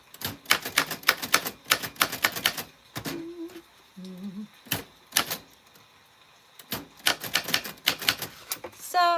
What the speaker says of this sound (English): it's a typewriter and it's from the 40s and it's doing what it can